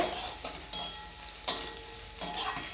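A spoon stirs chilli and turmeric powder into fried onions in a pan. Soft scraping and sizzling come through with a few sharp clicks of utensil against metal, close and fairly quiet.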